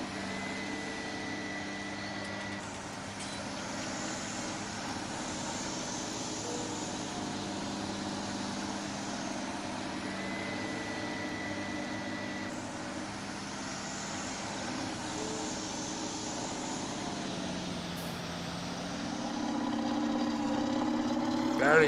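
A Volvo R-100E dumper's engine in Farming Simulator 19 drones at a steady idle, a constant low rumble with a faint whine that swells slightly louder at the end.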